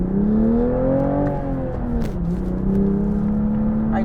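Exhaust note of a 2023 Toyota GR Supra with a manual gearbox, engine pitch climbing then dropping as it revs and shifts, a steady close rumble with no talk.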